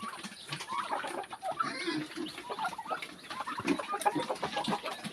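A flock of chickens clucks and chatters busily up close, a steady overlapping murmur of calls with no talking.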